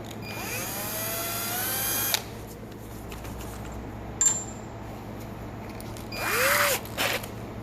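A power tool deburrs a T56 bleeder extension in two bursts, a rising whine spinning up for about two seconds, then a short second run near the end, with small clicks and taps between.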